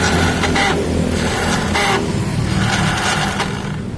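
A Yamaha Soul GT motorcycle's electric starter cranks in several short bursts with a whirring, spinning sound, the engine never catching, heard loud and close.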